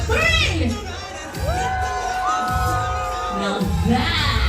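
Big New Year's Eve crowd at Disneyland Park roaring and cheering on cue, a dense wall of shouts with high whoops and children's squeals, swelling and dipping over a few seconds.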